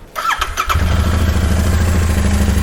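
A Royal Enfield Interceptor motorcycle engine cranks briefly and fires up, settling into a loud, steady twin-cylinder idle close to the microphone.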